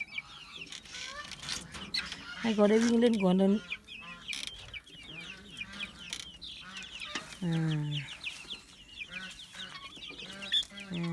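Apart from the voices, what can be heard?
baby chicks cheeping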